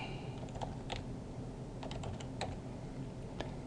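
Keys on a computer keyboard tap in short irregular bursts as an email password is entered, quiet and close, with no talking.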